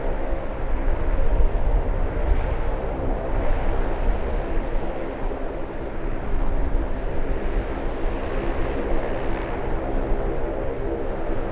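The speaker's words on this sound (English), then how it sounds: "It's an Airbus A380, Fiji Airways." Fiji Airways Airbus A380 heavy jet landing at Sydney Airport, a loud continuous roar that stays broad and steady throughout, with no talk.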